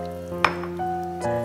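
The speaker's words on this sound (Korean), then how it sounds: "그러면 아까 밑국물을 여기다가 이제 부어주시면 돼요" Anchovy broth is poured into a pan of stir-fried kimchi, setting off a loud sizzling hiss with a sharp splash near the start and a second surge toward the end, while a steady tonal hum from the stove runs underneath.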